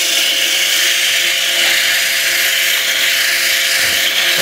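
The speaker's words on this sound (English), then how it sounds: "Wrap a sandpaper around this dowel sander thing" A dowel sander wrapped in sandpaper works the sides of a wooden box, giving a steady, loud, unbroken rasping hiss with no voices over it.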